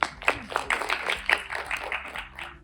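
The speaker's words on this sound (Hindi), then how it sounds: "इनके लिए बहुत सारी तालियां हो जाए." A room full of people clapping at the trailer launch for Jatt and Juliet 3, with scattered, uneven hand claps that rise and thin out over a couple of seconds before trailing off, moderately quiet.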